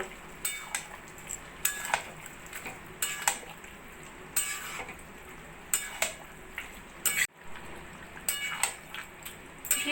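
A spoon stirs ghee and garam masala into a jackfruit curry (echorer kaliya) in a pot, giving sharp metallic scrapes and clinks about every second or so over a faint simmer.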